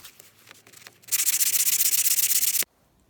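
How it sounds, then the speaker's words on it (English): A brass guitar nut blank is rubbed back and forth on a fine 3M abrasive pad, giving a steady, rhythmic, close scrubbing of about fifteen quick strokes over a second and a half, which then stops abruptly. "I just clean up the brass on a piece of fine 3M pad"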